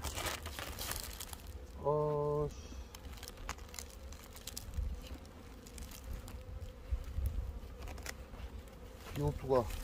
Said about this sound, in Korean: 영상을 끊자마자 바로 약한 벌이 나왔습니다